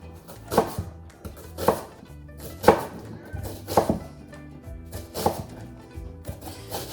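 A knife dices an onion on a cutting board, cutting first vertically and then horizontally, giving six sharp, evenly spaced chops about once a second, close and fairly loud, with no talking between them.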